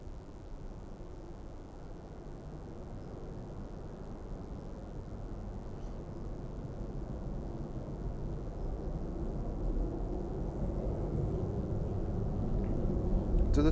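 An EasyJet airliner departing Birmingham Airport, bound for Enfidha: a steady broadband jet roar that builds gradually in loudness over the whole stretch, distant at first and drawing nearer, with no talk.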